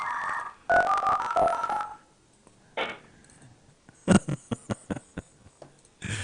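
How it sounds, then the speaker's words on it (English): A phone dials out to call a podcast guest back, a rapid string of short DTMF keypad tones near the end following a few longer tones and bursts of sound earlier, close and distinct. "Let's see if we can call him back again."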